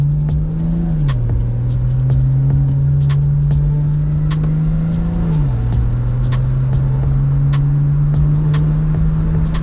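A 2020 BMW M340i cruises along backroads. Its engine hum stays steady and close, rising and falling gently as it shifts, over continuous road and wind noise.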